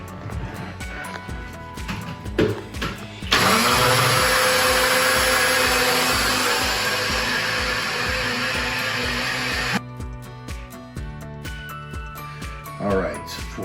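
Kitchen blender running loud and steady for about six seconds while making a smoothie, cutting in abruptly after background chatter and stopping sharply, with talk before and after.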